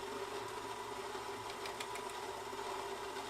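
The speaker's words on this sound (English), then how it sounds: "Grind time on the Baratza Vario for me right now is about like 20-ish seconds." A Baratza Vario burr grinder running as it grinds espresso beans for a Rocket espresso setup, a steady, continuous motor whir that holds even and fairly loud from start to finish with no talking.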